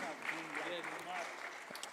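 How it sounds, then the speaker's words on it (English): Applause for a startup pitch at a fintech summit in Accra, a faint patter of clapping from an audience lasting a couple of seconds alongside some voices. "Round of applause for SendCoin"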